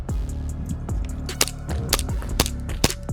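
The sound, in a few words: Army Armament R603 gas blowback airsoft pistol shooting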